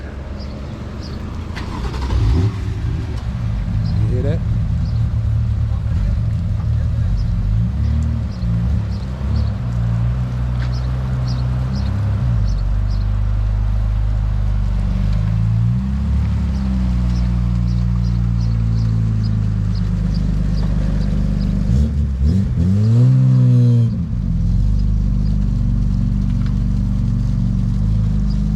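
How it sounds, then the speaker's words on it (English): An Infiniti G35 engine runs steadily at close range in a garage, with a few blips of revving over a constant low rumble while people talk briefly. "I had to get the start up to hear how this car is gonna start."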